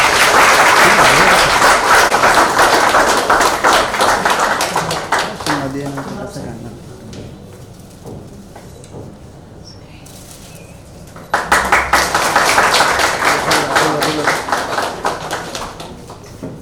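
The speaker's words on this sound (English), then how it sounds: "Please give a huge round of applause." Audience applause at an international conference, a dense burst of clapping that fades and thins mid-way, then swells again loudly for several seconds.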